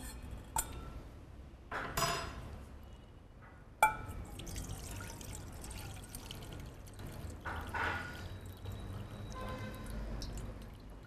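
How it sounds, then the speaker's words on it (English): Water trickles and drips in a kitchen as excess water is drained from soaked rice, with a few sharp clinks of a pot or utensil and a steady light pour underneath. "I'm going to drain that excess water"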